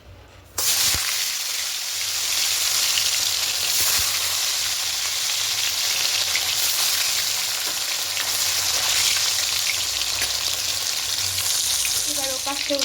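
Fish pieces drop into hot oil for a mustard-poppy curry and sizzle loudly after a brief quiet start, a dense, steady crackle that holds to the end, with a faint voice near the close.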